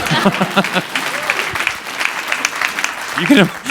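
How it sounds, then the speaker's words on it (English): An audience at a live onstage conversation with a TV comedy creator and an actor breaks into loud, lively applause and some crowd noise, with someone speaking over the clapping. "You can applaud that impossibly low bar I just set for America."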